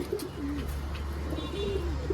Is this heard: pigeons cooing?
yes